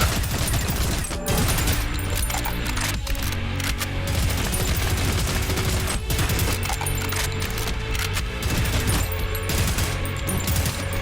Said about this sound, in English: Shoot one while the other reloads.